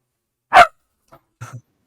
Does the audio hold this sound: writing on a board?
no